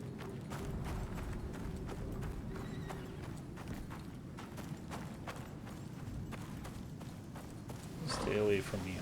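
Horse hooves clip-clopping steadily in the survival video game Icarus, a regular walking rhythm under a low ambient hum, ending with a brief whinny.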